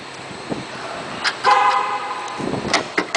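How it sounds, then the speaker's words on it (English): A 2007 Chevrolet Avalanche LT chirps its horn as it locks, with short sharp toots close by over light outdoor background noise. "when you lock the car, as I'll show you now"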